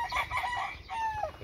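A rooster on a ranch in Mexico's Valle de Guadalupe gives a single faint, fairly distant crow, with no talking over it.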